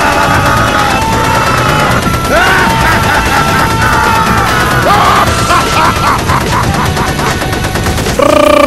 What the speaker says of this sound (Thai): Heavy Machine Gun